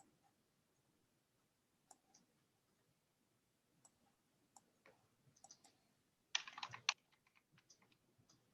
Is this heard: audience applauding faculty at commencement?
no